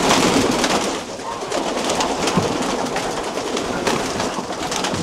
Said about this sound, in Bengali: প্রচুর পরিমাণে কবুতর।